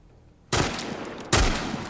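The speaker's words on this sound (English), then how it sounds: "Did he have a hunting rifle as well?" Hunting rifle gunshots in the video game The Last of Us: two loud, sharp blasts about a second apart, each followed by a long ringing tail, with no talk.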